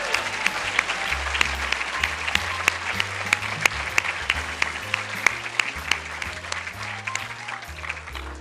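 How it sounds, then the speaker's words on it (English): Audience applause for pageant contestants at a small-town fall festival queen's pageant, steady clapping sustained throughout with a low hum of music or amplified tones underneath. "Give them a round of applause"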